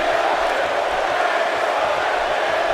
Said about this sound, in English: And now Bray, the crowd knows that they're chanting, Bray is going to kill you.